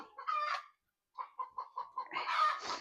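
A hen clucks close by in a quick run of short, pulsing calls, pausing briefly, then breaking into a louder, drawn-out squawk.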